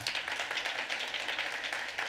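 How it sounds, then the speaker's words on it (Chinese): A church congregation applauds during a Sunday service, a dense, steady wash of many hands clapping at once, moderately distant and continuous for the whole stretch with no voices over it. "为他们来鼓掌好不好？"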